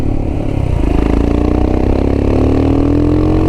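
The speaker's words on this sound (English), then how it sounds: "engine is quite a bit smoother than it was last time" A Royal Enfield Himalayan with a 462cc big bore kit and upgraded cam runs steadily and loud up close, a smooth throbbing single-cylinder note that rises slightly in pitch as it revs.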